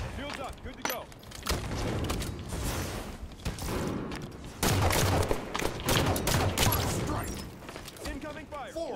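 Gunfire bursts in Halo 5, sharp rapid cracks and thumps scattered through the battle, mixed with voices talking over the action at moderate loudness.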